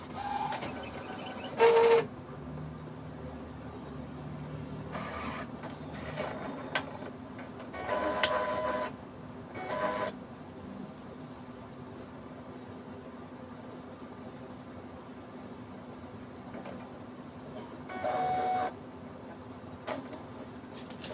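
A steady mechanical whine with a high-pitched hum runs throughout, broken by several short grinding, rattling bursts from an Epson L1300 inkjet printer with a damaged carriage motor and broken paper feeder.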